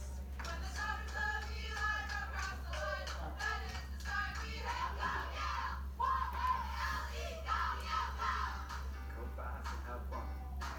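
A rowing team's supporters cheer and shout continuously with a steady low hum underneath, voices rising and falling in excited bursts throughout.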